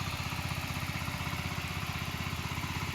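A small tractor ploughing a sugarcane field, its engine chugging in a steady, rapid idle-like rhythm throughout, loud and close with no pauses.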